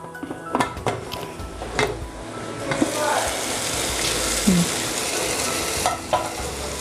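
Tomato and onion gravy for masoor lentil biryani cooks in a pan, giving a steady close sizzle with brief stirring scrapes and clinks.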